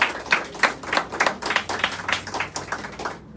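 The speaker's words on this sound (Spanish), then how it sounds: "a quien le damos un fuerte aplauso." Audience applause for commission president Elsie Camacho Pineda at the installation of an urban development and public works commission, with distinct hand claps at a brisk, uneven rhythm, moderately close, no talk over it.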